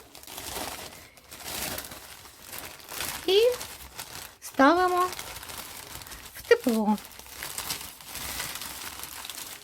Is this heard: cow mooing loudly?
no